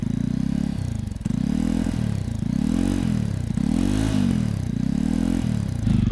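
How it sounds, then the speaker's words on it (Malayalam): Exhaust note of a Jawa 42 motorcycle, close and loud, its engine revved repeatedly in rising and falling sweeps about once a second, with no talk over it. "Java 42-ന്റെ exhaust not."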